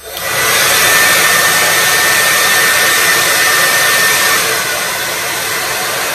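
A 1937 Remington New York hair dryer runs on its high speed setting, giving a loud, steady close-up motor whir and rushing air that continues unbroken, easing slightly toward the end.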